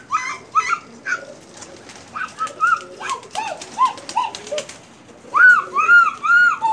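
A red-eyed Kamagar pigeon pair calls in repeated cooing bursts, rising and falling tonal phrases close by, with brief pauses between groups and no talk.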